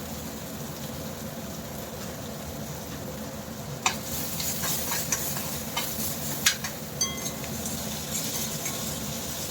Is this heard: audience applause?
no